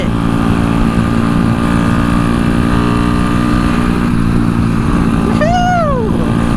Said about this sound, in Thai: แค่นี้รอบตัดนะ ตัดแบบตัดยับนะทุกคนขนาดลันอินนะนี่